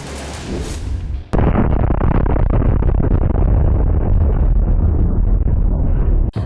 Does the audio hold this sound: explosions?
yes